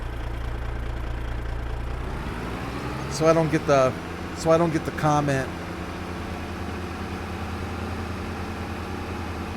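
A tractor engine in Farming Simulator hums at a steady low idle from start to finish, with someone talking briefly over it in the middle.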